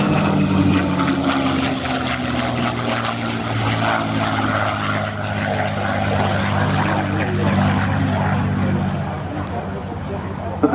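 A P-51D Mustang with its Rolls-Royce Merlin engine flying past at an airshow at Scampton, a loud steady propeller drone with someone talking over it throughout.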